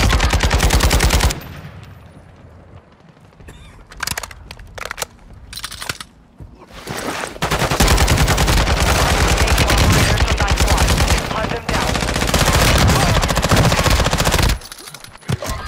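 Heavy automatic gunfire from a Warzone Resurgence trios match, loud sustained bursts with brief gaps between volleys and dense rattling fire filling most of the stretch.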